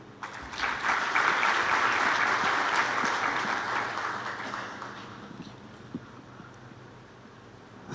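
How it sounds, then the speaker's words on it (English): Conference audience applauding a scientist after her talk at a science congress, a steady round of clapping that swells quickly, holds, then fades away over several seconds. "A round of applause for her once again"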